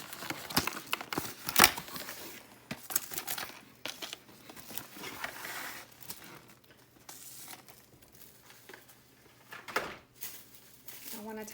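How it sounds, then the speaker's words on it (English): Plastic wrap is pulled from a roll and crinkled in a home kitchen while making a chocolate pie. The crackling comes in close, irregular bursts with a few sharper tearing snaps. "I want to take my plastic wrap and lay it on the pudding, or on the pie part."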